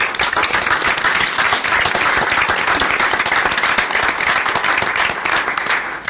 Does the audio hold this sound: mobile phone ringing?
no